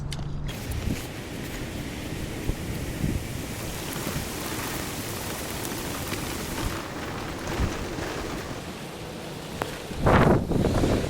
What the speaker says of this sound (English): Thunderstorms rolling in.